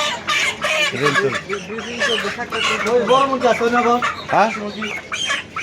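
Many chickens cluck and squawk continuously at a busy chicken shop, with overlapping bird calls close by and voices of people talking throughout.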